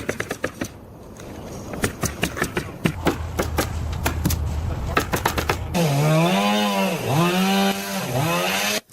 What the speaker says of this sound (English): The wooden logs on the interior wall are being cut with high precision using a chainsaw